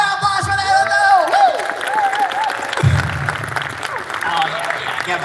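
Applause from a fan-convention audience at a Cowboy Bebop voice-actor Q&A, a steady dense clatter of clapping with scattered whoops, continuing for several seconds over talk and crowd noise.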